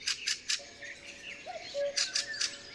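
A fieldfare, a blackbird-sized thrush, calls at a forest edge with harsh, raspy chattering bursts in two clusters, mixed with thin whistled notes, fairly close against quiet woodland background.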